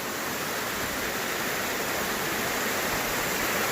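Fast water pours down a narrow forest channel, a dense, unbroken hissing roar close at hand and steady throughout, with no voices.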